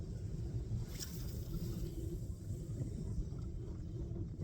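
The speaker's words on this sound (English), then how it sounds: "especially when I can hear motors coming fairly close" A faint, steady boat motor rumble drones in the distance on the water, mixed with wind noise, with no distinct passing swell.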